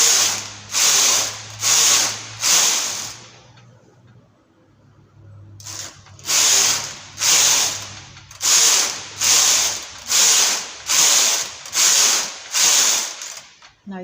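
A knitting machine carriage sweeps back and forth across a chunky cardigan in loud, regular rhythmic passes, with a short pause before the strokes resume at a steady pace.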